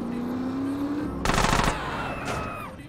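A rapid burst of automatic gunfire rattles loudly for a moment over a droning engine-like tone, followed by a fainter whooshing shot, from the video game GTA San Andreas Definitive Edition.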